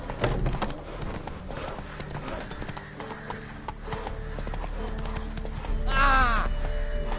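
The horse Roach trots along in The Witcher 3, hooves clip-clopping in a steady rhythm close by, with a short whinny near the end.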